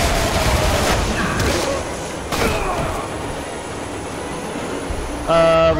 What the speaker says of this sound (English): Oh, it's another train.